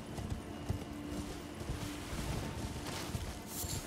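A horse's hooves clip-clop in Elden Ring as the player rides at speed, with quick, even hoofbeats near and moderately loud over a soft ambient bed.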